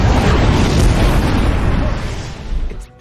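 A bomb blast in a film scene after a pin is pulled, a loud, sustained broadband roar that rumbles and slowly decays before cutting off.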